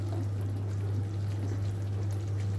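Hot water poured into thick kadhai paneer curry gravy, a soft steady trickle and splash running through the whole stretch over a low constant hum, with no talking.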